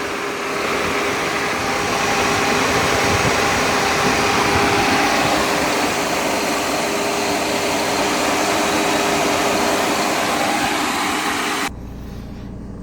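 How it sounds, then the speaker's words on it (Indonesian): A parked car idles with its air conditioning switched on, a loud, steady blend of engine hum and blower rush with a faint whine that runs unbroken, then drops sharply near the end. "Tadi agak berisik karena saya nyalakan mobil ini dan AC-nya saya hidupkan."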